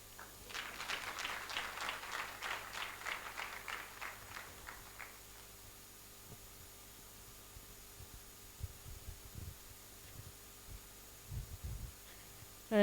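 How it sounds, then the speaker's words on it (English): Scattered applause from a modest audience at a public debt event, a brief burst of rhythmic, fairly faint clapping in the opening seconds that dies away into a quiet hum and low thumps. "Let's give another round of applause"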